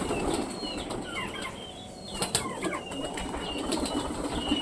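Pigeons flap their wings in several bursts of fluttering, close by, with faint chirps and soft cooing mixed into the busy background.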